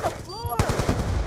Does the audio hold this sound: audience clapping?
no